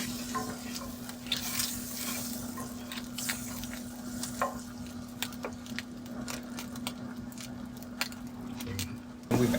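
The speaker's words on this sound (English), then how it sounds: "we're going to let our butter melt" Butter melts in a pan for a stuffed chicken breast dish, giving a soft, steady sizzle with faint crackles and occasional utensil clicks, heard alone without talk.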